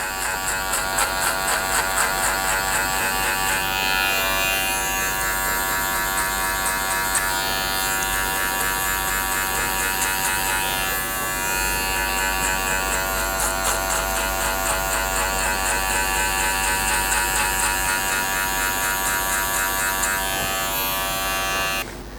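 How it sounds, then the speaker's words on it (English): A foil shaver buzzes steadily and loudly through a skin fade haircut, a bright electric drone with a low hum underneath and small shifts in pitch as it moves across the head, with no talking. "we're going to follow that by using a foil shaver to board out the bottom part"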